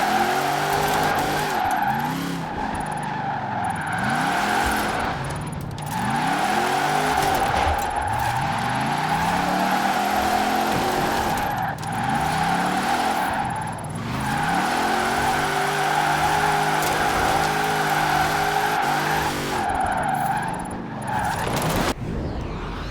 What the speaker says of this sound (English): you can actually drift it pretty good with only one gear